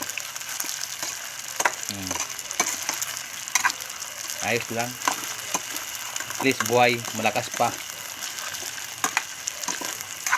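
Squid balls sizzle and fry in a pan for a home-cooked soup dish, a steady crackling hiss throughout with occasional stirring, while a person talks over it intermittently.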